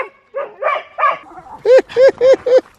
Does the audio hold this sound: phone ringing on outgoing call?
no